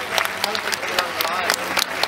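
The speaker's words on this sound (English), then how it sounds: "Give them a round of applause as they head off." An audience at a seal show at Taronga Zoo, Sydney, claps steadily for a couple of seconds, a dense crowd applause with sharp individual claps standing out.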